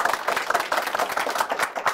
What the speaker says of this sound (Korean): 오늘 너무나 좋은 말씀 해주신 이제 고용하 회장님께도 박수 부탁드리겠습니다